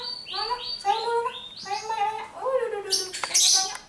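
A tame lovebird gives a quick series of sharp, rising and falling chirps, close by and fairly loud, ending in higher squeaky notes.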